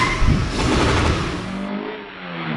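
A 1989 Mercedes-Benz 560 SL engine revving up loudly and close, a sustained roar that eases off toward the end.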